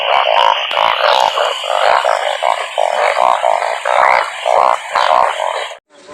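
Large frogs croak on a rainy day in rural Isan, Thailand, a loud, close, continuous chorus of overlapping rhythmic croaks that fills the whole stretch before cutting off abruptly at the end.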